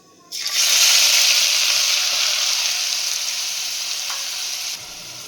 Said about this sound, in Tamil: இப்போ வெங்காயம், பச்சை மிளகாய், இஞ்சி, பூண்டு கட் பண்ணி வச்சாலும் அதை சேர்த்துடலாம்